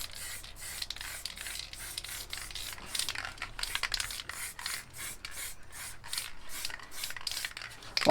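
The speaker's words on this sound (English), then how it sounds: "get a piece of a bag that I've cut up again. I'll just screw it up" A cut-up piece of plastic bag being crumpled and screwed up by hand, producing a close, continuous crinkling and rustling made of rapid overlapping crackles, with no voices.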